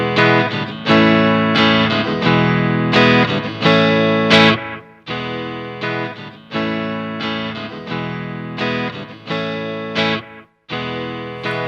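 A distorted electric guitar blues riff repeats on a looper pedal, loud and rhythmic. The loop was closed too late, so a short silent gap breaks the cycle before the riff restarts.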